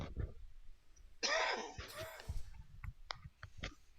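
A man coughs and clears his throat close to the mic, a sharp cough at the start followed by a raspy throat-clearing burst and a few smaller clicks and breaths, with no speech.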